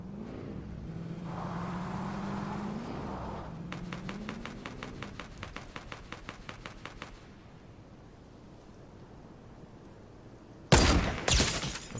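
Rapid bursts of gunfire in Fortnite rattle off at a distance, a fast run of evenly spaced shots following an engine-like rising drone, then a sudden louder crack near the end.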